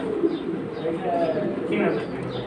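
Silver high-flying pigeons coo softly among background chatter, a low steady murmur of birds with occasional faint chirps, people talking nearby.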